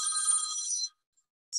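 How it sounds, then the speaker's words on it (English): A telephone bell rings during a workgroup meeting: a bright, trilling burst for almost a second, then a pause, then the next ring begins. No talk is heard over it. "I'm getting a phone call that I'm gonna stop."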